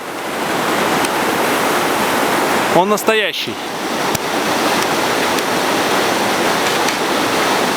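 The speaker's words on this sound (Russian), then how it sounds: "показываю тот самый водопад" A remote waterfall deep in the Siberian taiga roars steadily and loudly throughout, a dense broadband rush, with a voice speaking briefly over it partway through.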